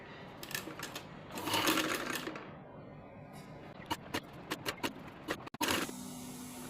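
Sewing machine stitching the lining of a baby frock in short bursts of rapid needle clatter separated by pauses, close and fairly quiet.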